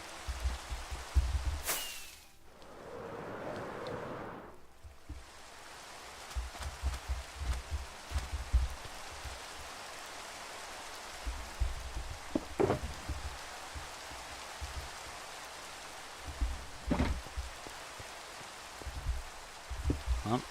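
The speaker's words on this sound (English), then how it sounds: "Well, I guess we're working in the rain." Soft, steady rainfall in the video game Minecraft patters continuously, with occasional sharp clicks and a brief louder rush near the start.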